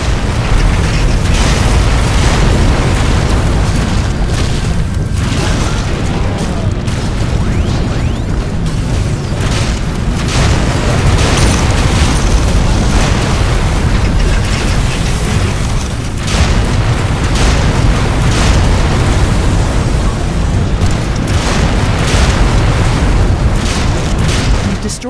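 Loud, continuous rumbling booms and bursts as a biofactory is destroyed in The Riftbreaker, layered over a dense mechanical game soundscape with no pauses throughout.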